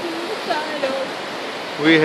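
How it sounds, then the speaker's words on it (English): River rushing past during a trail crossing in the forest on the route toward Chilliwack Lake, a steady loud broadband flow of water, with a few brief voice sounds over it and a louder surge at the end. "We cross the river now"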